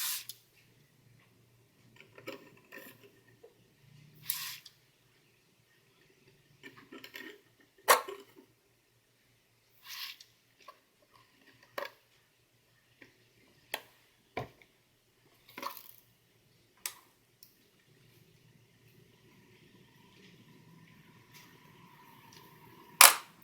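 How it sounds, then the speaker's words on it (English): A spray bottle spritzes patina solution onto metal in about a dozen short, sharp, close bursts spaced a second or two apart, with quiet pauses between them. "Let's go ahead and give it a little spritz."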